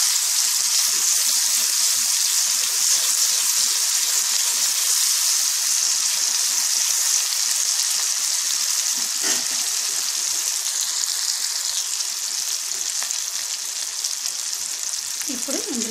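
A steady, loud sizzle of turmeric and ginger garlic paste frying in a pan for chicken curry, continuous throughout with brief stirring scrapes near the end.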